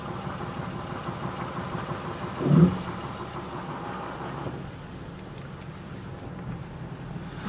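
Car engine idling roughly in drive with a diesel-like clatter, a steady low rumble and faint ticking throughout, with one brief louder bump near the start.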